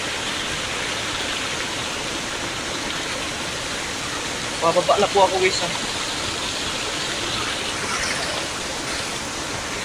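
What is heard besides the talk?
waterfall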